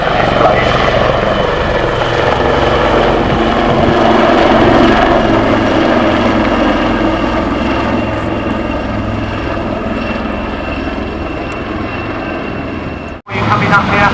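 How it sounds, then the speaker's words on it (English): Display aircraft at the 2025 Cosford Airshow roar steadily overhead, a loud continuous engine and rotor drone with a brief sharp dropout near the end. "Coming up here, aircraft transiting rearwards, and then dipping their noses."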